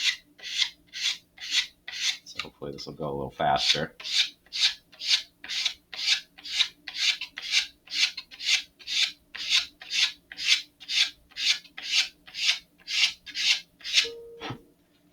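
Steady back-and-forth rasping of a sanding block on a wooden part of an Estes Great Goblin model rocket, about two strokes per second, close and even throughout, with a brief spoken remark partway through.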